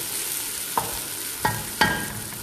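Onions frying in a pan for chicken salona with vegetables: a steady close sizzle broken by three sharp stirring scrapes, with no voices.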